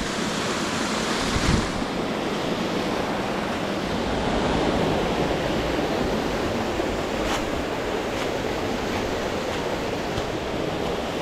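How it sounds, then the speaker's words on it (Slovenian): The Bojanca waterfall on Bohor roars as a steady, broad rush of falling water, heard continuously at close range on the approach with faint wind noise on the microphone. "Počasi se približujemo ta glavnemu slapu, se imenuje slap Bojanca."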